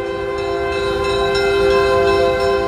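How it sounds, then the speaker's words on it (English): A diesel locomotive leads an excursion train past with a steady, loud drone and a sustained horn-like tone, steam excursion running nearby, close and continuous throughout. "Here's the leading diesel going through"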